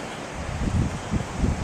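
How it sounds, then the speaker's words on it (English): Gusts of wind at a seaside campsite at Cayton Bay, England, buffet the microphone in low, rumbling bursts over a steady background whoosh, with no voices. "It is a bit windy, so I don't know if you'll pick me up."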